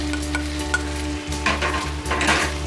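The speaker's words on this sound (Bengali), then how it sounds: "দিয়ে গ্রেভিটা আমি ভালো করে একটু কষে নেব" Gravy with turmeric and mixed cumin-coriander powder frying in plenty of oil for a Bombay duck curry, a loud close sizzle with scraping spatula strokes against the pan and no voices.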